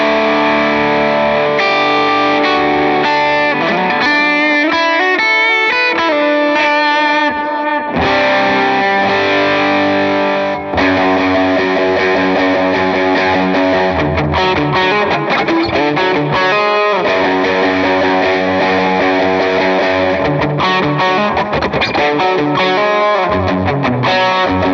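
Electric guitar through a Line 6 POD Go with a bright, shimmering reverb, playing 2000s worship-style chords and melodic lines with distortion and effects, loud and continuous with no talking.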